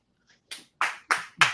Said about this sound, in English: Let's give this woman a hand clap.